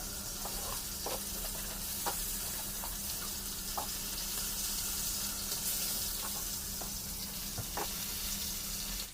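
Chicken pieces fry in oil over a low flame in a small kitchen, a steady soft sizzle with occasional light pops and clinks, moderately quiet and with no voices.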